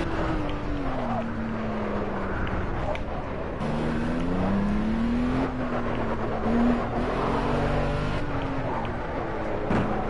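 In the racing game Project Cars, a car engine drones steadily and then climbs in pitch as it revs harder, with continuous engine roar and road noise throughout and faint talk underneath.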